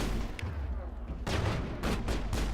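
Gunfire in Mass Effect: a rapid run of loud bursts and shots crackling through a dense, noisy game soundscape.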